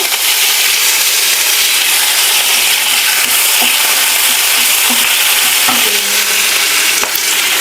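Curry leaves hit hot oil with cumin, giving a loud, steady, close sizzle that stays dense throughout, with a few faint clinks and crackles poking through.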